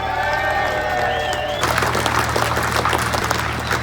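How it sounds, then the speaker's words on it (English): Crowd at a rally breaks into applause and cheering, a dense wash of clapping and shouts that swells loudly after a quieter stretch with a steady low hum underneath. "we all need a massive cheer and a round of applause for the Met"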